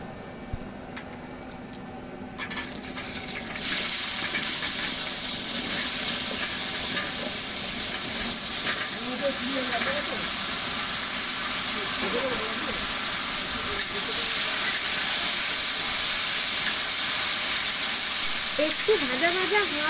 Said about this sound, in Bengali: এবার দিয়ে দেবো বাকি সবজিগুলো পেঁপে আলু ও মিষ্টি আলু